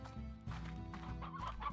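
Chickens cluck in quick, close bursts over a low steady background hum in the game Dead by Daylight, with no voices.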